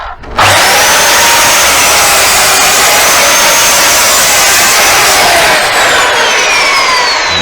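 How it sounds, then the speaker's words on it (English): A power saw cutting through a wooden plank: a loud, sustained whining buzz that starts abruptly and runs steadily close up for the whole stretch, with the pitch shifting slightly as the blade moves through the wood. "Bring the saw blade down and clamp it."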